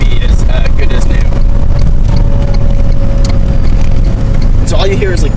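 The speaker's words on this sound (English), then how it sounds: "all you hear is like the wind. You hear the wheels rolling. You hear like the road a little bit" A Tesla electric car is driving with no engine note, just broad steady wind rush, rolling wheels and low road rumble heard from inside the cabin, with faint brief clicks and squeaks.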